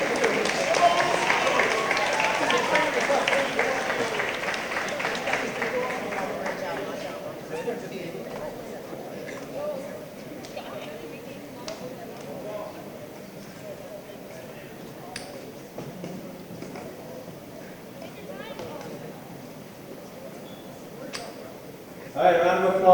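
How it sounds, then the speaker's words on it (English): Applause from an audience at a school moving-on award ceremony, a crowd clapping fairly loudly at first, then thinning into scattered quieter claps and murmurs before a brief louder swell at the end. "All right, a round of applause."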